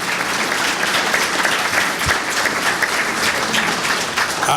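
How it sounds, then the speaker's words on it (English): A room full of people gives a round of applause for distinguished speakers at an event on human trafficking in Georgia, dense and close clapping sustained evenly from start to finish. "Please give all of our distinguished speakers another round of applause"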